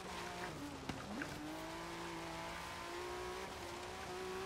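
A Ford GT's engine in Forza Horizon 3 winds up steadily as the car accelerates, its droning tone climbing in pitch, with a brief screech early on, continuous and fairly close.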